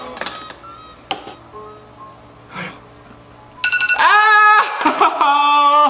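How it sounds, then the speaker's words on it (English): A school alarm bursts in loudly partway through as a shrill, continuous electronic ring, following a few seconds of quiet tapping and rustling. "that was my alarm in school"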